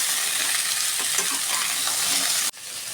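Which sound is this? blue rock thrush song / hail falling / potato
potato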